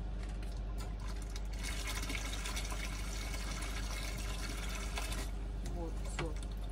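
Tap water pouring steadily into a garden barrel, a continuous splashing rush with a low hum beneath and small knocks toward the end, no talk over it.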